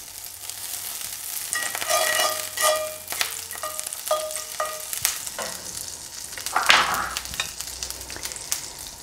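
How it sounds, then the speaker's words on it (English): Butter sizzling in a hot skillet on a stovetop while making panettone French toast, a steady soft frying hiss with scattered clinks and taps of utensils against the pan, fairly close and without talk. "So I'll add a good 2 teaspoons of butter to my hot skillet."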